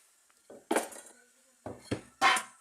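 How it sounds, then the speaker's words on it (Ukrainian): A bowl is set down on a kitchen surface, several clattering clinks and knocks of dishware in uneven succession, close and fairly loud, with no talking. "Ставлю миску."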